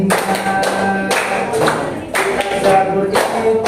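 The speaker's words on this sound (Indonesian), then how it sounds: "Tepuk kitab-kitab Allah." A classroom group claps in rhythm during a chanted clapping song, several sharp bursts of hand claps repeating in a steady pattern, with the chanting voices running through and between the claps.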